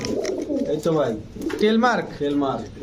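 Pigeons coo repeatedly at a close range at a pigeon sale, a series of throaty rolling calls in quick succession with a voice speaking under them.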